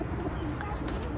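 Cobra Teddy pigeons of a home-bred flock cooing, a low continuous murmur of coos close by, steady and moderately loud throughout.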